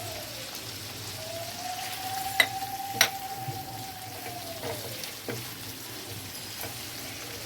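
Chilli sauce and pasta sauce stirred in a hot pan, with a steady sizzling hiss broken by a few sharp spatula clacks and a faint whine running through, and no talking.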